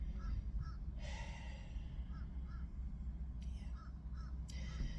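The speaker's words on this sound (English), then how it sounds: "It's probably the sounds of the birds." Crows cawing in a park, several harsh calls scattered through the clip with short gaps between them, heard at moderate distance over a steady low outdoor rumble.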